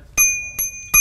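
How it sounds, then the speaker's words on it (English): An e-bike bell rings three times in quick succession, each a bright metallic ding with a clear sustained ringing tone, close and loud, with no voices. "E-bike bells, I hope you ride one today."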